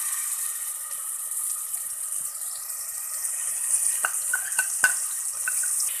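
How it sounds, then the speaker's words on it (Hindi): Garlic and ginger fry in oil in a pot, sizzling steadily, with faint stirring clicks and scrapes now and then, and no one speaking. "लहसुन अदरक को भून लिया है।"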